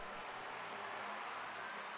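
Faint, steady crowd applause from an F1 racing video game at the Mexico City circuit, a diffuse wash of clapping that carries evenly through the moment with no talk over it.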